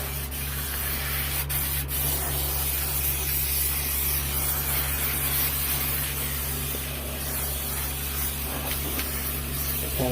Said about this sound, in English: The reason you spray both the front and the panel, or both places, is because you want it to stick really good.